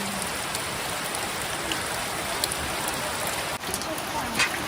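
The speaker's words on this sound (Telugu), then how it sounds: "గట్టిగానే కురిసింది వర్షం అయితే." Heavy rain pours outdoors over a village hill stream during a fishing outing, a dense, steady hiss of drops all through, with a faint voice briefly in the background.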